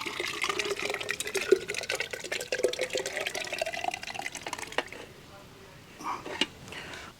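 Gravy and water pour steadily into a pot of kabsa for several seconds, then stop, followed by a couple of faint clinks and a soft splash.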